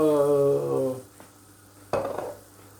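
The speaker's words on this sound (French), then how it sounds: "Je vais déglacer au bouillon de volaille" Poultry broth poured into a hot pan to deglaze it while cooking a turkey paupiette. A brief voice is followed by a sudden, close sizzling hiss that flares and quickly dies down.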